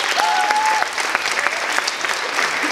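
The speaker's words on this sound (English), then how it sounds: "please, a big applause for the second volunteer who survived" An audience at a physics science show applauds a volunteer, loud, dense clapping from a crowd with a few sharp claps standing out and a faint voice murmuring underneath.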